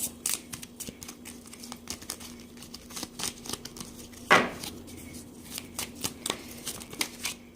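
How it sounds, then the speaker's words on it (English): A Lenormand deck of cards is shuffled repeatedly, quick riffling flutters and soft taps in an uneven rhythm, close and fairly quiet. "let's shuffle the cards."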